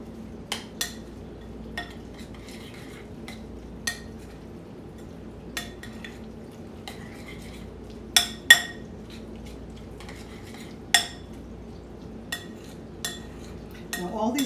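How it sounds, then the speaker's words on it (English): Utensil stirring creamy cucumber-herb salad in a bowl, with soft scraping and occasional sharp clinks against the dish at irregular intervals, close and fairly quiet, with a faint low background hum. "And we're going to mix it in well."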